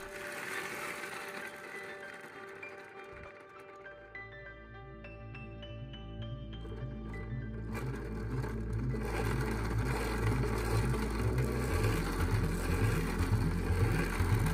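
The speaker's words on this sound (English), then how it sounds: "it's still extremely difficult to spin the gearbox any faster" A 3D printed gearbox spun fast by hand, giving a steady mechanical whir whose gear-mesh tones climb in pitch as the speed builds, close and alone with no talk, growing slightly louder toward the end.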